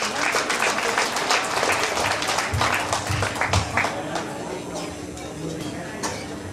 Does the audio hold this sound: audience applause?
yes